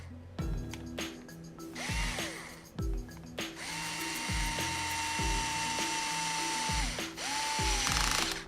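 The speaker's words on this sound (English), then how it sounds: "Bolt this guy up." A bolt being tightened on a Traxxas Slash LCG RC car during rear wheel bearing work, heard as repeated short ratcheting bursts and whirring from a small power driver, close and loud with no talking.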